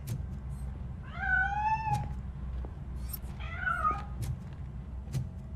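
A cat meows twice in the video game RoboCop: Rogue City, with clear, drawn-out rising and falling cries separated by a pause. Faint clicks and a low background hum sit underneath.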